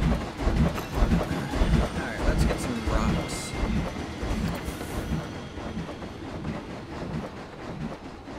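A train running on rails over water in the theme-park building game Planet Coaster, a steady rumbling clatter of wheels that continues throughout, with a voice talking over it at moments.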